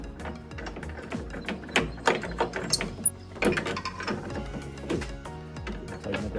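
Ratcheting clicks while the Ford F150 tailgate assist kit is tightened back down, a fast irregular series of metallic ratchet turns in short bursts, close and clear with no talking.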